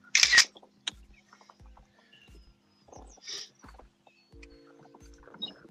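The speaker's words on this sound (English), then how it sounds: "Now, Ken, do you have the shutter sound on just so you know it actually takes a" A camera shutter clicks several times in quick, light bursts against a quiet background, with faint knocks and soft rustling in between.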